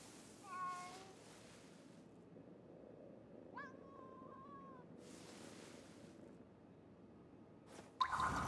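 A cat in the video game Ghostwire Tokyo meows twice, a short chirp early and a longer drawn-out meow midway, amid faint rustling background and brief soft noise bursts.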